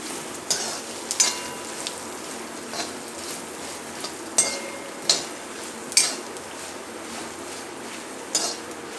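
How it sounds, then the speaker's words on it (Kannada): Masala for a mutton curry fries in a pan with a constant close sizzle. A spatula scrapes and taps against the pan at irregular intervals, roughly once a second, with no talking. "ಈ ಮಸಾಲೆ ಪೂರ ಪಾಡ್ಗ ಒಟ್ಟಿಗೆ ಒಂತೆ ಫ್ರೈ ಆದ ಮಸ್ತ್ ಬೊಚ್ಚಿ"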